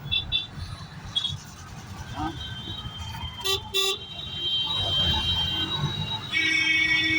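Traffic rushes past on a highway, a continuous road rumble with a few short horn toots midway and a sustained horn tone building toward the end, no speech.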